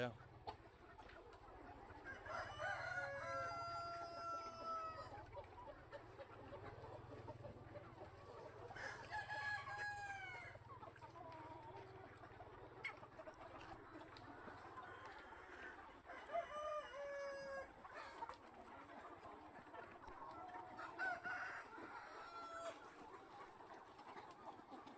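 A flock on a chicken farm of about 2000 birds clucks continuously while several roosters crow in repeated drawn-out calls, some near and some farther off, with a low hum underneath.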